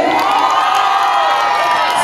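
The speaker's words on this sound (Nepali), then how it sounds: "सम्पूर्ण पूर्वेलीहरूको लागि जोरदार ताली है" A large outdoor festival crowd at a live comedy show in Baliya roars with loud, sustained cheering and whooping for a couple of seconds.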